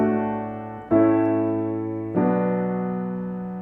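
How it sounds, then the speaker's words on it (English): Three sustained chords played in sequence, each new chord entering with a soft attack and ringing out, the last resolving unexpectedly to the submediant chord rather than home, forming an interrupted cadence. "if we change the final chord to chord 6, which is the submediant, it sounds like this."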